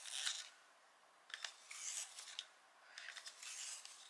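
Leaf green light coloured pencil being sharpened, heard as faint, close, dry scraping strokes in a few short bursts with quiet gaps between them.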